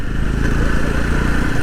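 A Yezdi Roadster motorcycle engine on the move during a ride, a steady, close, low rumbling drone with a faint clattery texture and no speech.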